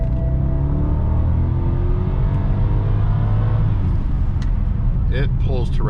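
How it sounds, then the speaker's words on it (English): A BMW 650i E64 convertible engine pulls hard through the gears to redline, a loud steady rising drone close by, with a voice talking over it near the end. "It pulls to red line quite handily."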